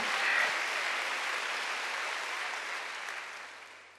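Congregation applause fills a church during a Wednesday worship service, a broad, even wash of many hands clapping at moderate distance that slowly fades toward the end.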